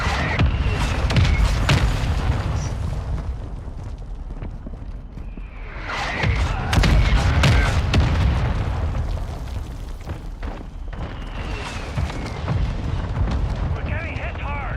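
Mortar strike in Call of Duty: Mobile, heavy rumbling blasts and booming impacts rolling continuously over about fifteen seconds, loud and dense, with bursts of gunfire mixed in.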